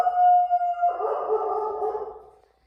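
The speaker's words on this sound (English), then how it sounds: "Startled the baby with that crazy howl, huh?" Dog howling nearby, one loud sustained tonal howl that breaks into a rougher, wavering cry before trailing off.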